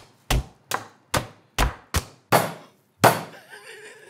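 Pork steak being pounded flat with a rolling pin on a board in a Thai home kitchen: seven heavy, separate thuds at a steady, forceful rhythm, close and loud, with brief laughter at the end.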